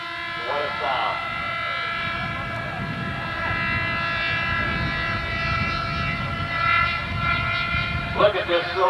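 An SR-71 jet takes off with a sustained engine roar and a high whine. The roar swells toward the end as it climbs, and a voice can be heard over part of it.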